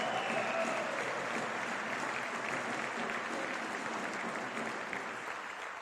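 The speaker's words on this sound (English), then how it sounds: "big round of applause for David Tepper." A crowd at the announcement of Charlotte's MLS expansion franchise applauds in a broad, even roar of clapping heard from a distance, sustained throughout and easing slightly toward the end.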